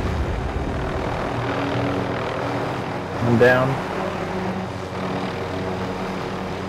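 A helicopter in the video game Call of Duty Warzone rises briefly as a rotor and engine swell that passes and fades, mixed into steady game ambience while a player talks.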